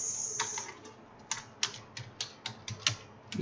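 Keys typed on a computer keyboard while writing Markdown text, a run of sharp, close clicks in an uneven rhythm, sparse at first and then quickening into a steadier patter.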